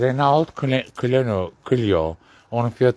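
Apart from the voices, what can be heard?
No everyday noise stands out behind the speech.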